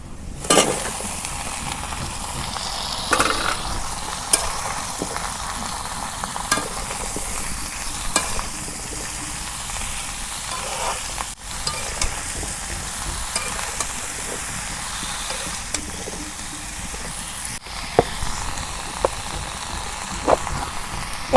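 Whole spices temper in hot oil for a red radish and river fish curry in a rural Bengali kitchen, producing a loud, continuous sizzle with stirring scrapes and occasional crackles that carry on for over twenty seconds.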